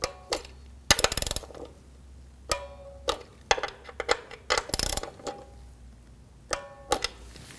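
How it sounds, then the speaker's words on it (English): A torque wrench tightens nuts to 80 inch-pounds while an oil level sensor is replaced on a 2006-2009 Audi S4, giving a series of sharp metallic ratcheting clicks and clinks in short bursts, close and fairly loud. "Now I'm going to torque these nuts to 80 inch-pounds."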